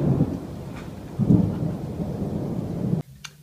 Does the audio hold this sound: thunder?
yes